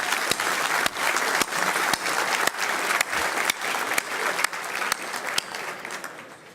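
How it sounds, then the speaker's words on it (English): Audience applause at a building industry awards dinner, dense sustained clapping from a large crowd filling the room, steady and loud throughout with faint voices underneath. "So let's give a round of applause to Frank."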